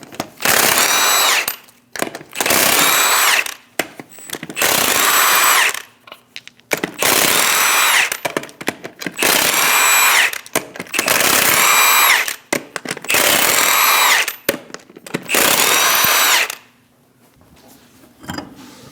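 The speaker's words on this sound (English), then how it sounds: "Using a 22mm socket, remove the 8 lug nuts." An impact or power tool with a 22mm socket removes eight lug nuts from a Chevrolet Express 2500 wheel in repeated loud whirring bursts of about one to two seconds each, separated by short pauses.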